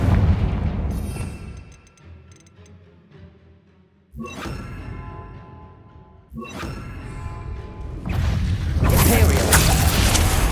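In Hogwarts Legacy, the Confringo spell fires in a combat scene: two abrupt blasts hit a few seconds apart, then a heavy roaring explosion swells near the end over rumbling battle noise and voices.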